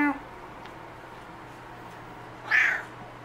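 A cat lets out a single short, high meow close by near the end, after a long quiet stretch that follows a brief voice at the start.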